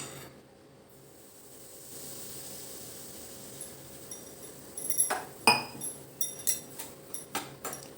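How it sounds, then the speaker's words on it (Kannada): Semolina being roasted in ghee in a pan, heard as a run of light metallic clinks and scrapes from the spoon against the pan, quiet at first and then a string of sharp ticks close by. "ಆ ರವೆನ ಇದಕ್ಕೆ ಹಾಕ್ಕೊಂಡು ಚೆನ್ನಾಗಿ ಹುರ್ಕೊಳ್ಳೋಣ"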